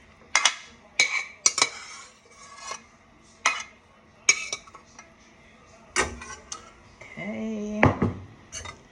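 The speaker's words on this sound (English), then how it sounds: "we're just gonna use this spoon that I have here to help us get it in the pan" A spoon scrapes and clinks against a pan while ground turkey is pushed into it: a series of close metallic taps and scrapes, with a voice talking briefly near the end.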